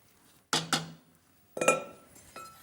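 Broccoli soup with cream stirred in a metal pot, giving two quick clinking scrapes of a utensil against the pan, then another clatter a second later, close and fairly loud with quiet gaps between.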